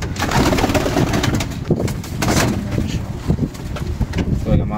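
French pigeons of a pure meat breed cooing close by in a loft, a steady dense murmur of soft throaty calls with wingy rustles and some background talk.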